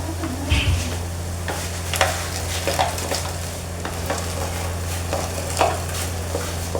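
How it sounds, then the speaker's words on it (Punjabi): Onions sizzle steadily in hot oil in a pan during Punjabi home cooking of a pumpkin curry, a continuous close frying hiss broken by occasional stirring scrapes and clinks. "ਜਦ ਤਾਈਂ ਆਪਣੇ ਪਿਆਜ਼ ਭੁੱਜ ਜਾਣਗੇ"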